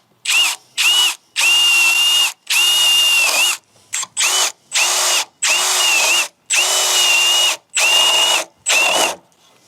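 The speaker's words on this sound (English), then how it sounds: "when I start to drill and the drill bit starts to hit the wood" Power drill fitted with a hole saw, boring into a solid core wooden door in repeated whining bursts of one to two seconds each, with short pauses between them, close and loud.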